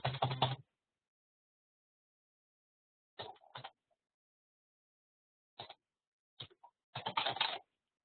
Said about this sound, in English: let's go type something really quick